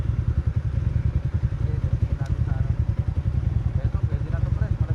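A Yamaha Sniper 155 motorcycle with a remapped ECU rides at speed, its engine giving a loud, steady, throbbing drone with wind rumble throughout, and a voice can be heard talking over it.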